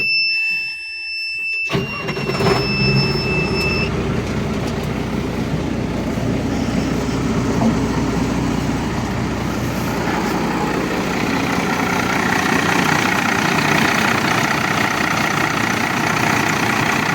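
A low-pressure warning buzzer sounds, then a T-150 tractor's MAN D0826 diesel engine starts up and settles into a loud, steady idle rumble that runs continuously. The buzzer fades out early on.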